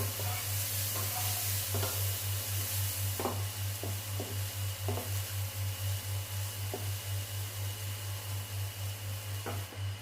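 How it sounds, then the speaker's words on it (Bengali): Onions going into a hot pan for a water spinach dish, giving a steady sizzle with scattered stirring clicks and scrapes over a constant low hum, with no talking. "এই পেঁয়াজটা দিচ্ছি পেঁয়াজটা দিয়ে দিলাম"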